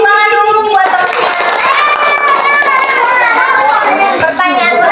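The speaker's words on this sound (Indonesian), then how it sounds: "Oke, baik tepuk tangan." A group claps together while children's voices shout and cheer loudly over the applause at a health education session on diarrhea.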